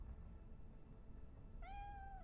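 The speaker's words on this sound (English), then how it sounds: "the cat is supposed to be in a different spot randomly whenever you come into your apartment" A pet cat in the video game Cyberpunk 2077 gives a single clear meow near the end, faint over a low steady background hum.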